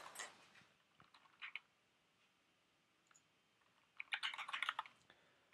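Bursts of quick key clicks on a computer keyboard, a short flurry at the start, a few taps in the middle and a denser run near the end, close and fairly quiet with silence between.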